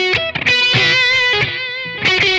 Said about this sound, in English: It's set to E2, this preset, so it's echo with a mild feedback.